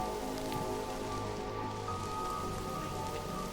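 Steady rain falls through an open roof in the Mind Over Magic video game, a soft continuous patter over a low hum that stays even and fairly faint throughout, with no voices.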